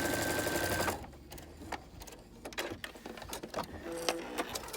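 Sewing machine stitching a fabric face mask, a quiet rapid run of stitches at the start that stops, followed by faint clicks and handling sounds at low level.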